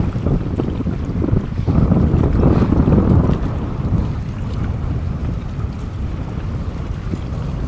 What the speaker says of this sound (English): Yeah, we got some good wind action.